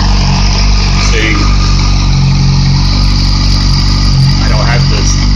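A 2008 Yamaha R6R motorcycle engine runs steadily on a stand without its exhaust tip, a loud continuous mechanical drone with a low rumbling idle throughout, and faint voices in the background.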